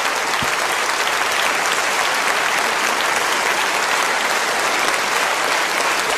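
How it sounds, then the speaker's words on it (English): Sustained, dense applause from a snooker audience at the Paul Hunter Classic as a match ends and the trophy is about to be presented, a steady crackling wash of clapping with no break. "That's when they stop applauding"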